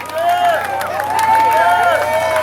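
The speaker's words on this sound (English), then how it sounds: "give Brenda a round of applause" At a 10K run and 5K walk awards ceremony, a crowd claps and cheers for an 85-year-old woman, steady applause and whoops mixed with chatter beneath a nearby announcer's voice.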